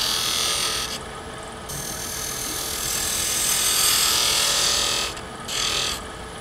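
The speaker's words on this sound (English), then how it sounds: "I could reach that with this detail gouge" A detail gouge cuts a wood twig pot spinning on a lathe, a steady, loud scraping hiss that drops away briefly a few times as the tool lifts off the wood.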